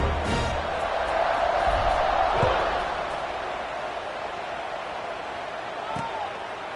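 A football stadium crowd roars as a team prepares to kick off, a broad, fairly distant wash of cheering with a few thuds and shouts over it.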